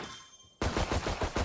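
Rapid automatic gunfire from the video game Valorant erupts after a short quiet moment, loud and close, firing in a steady rattling burst to the end.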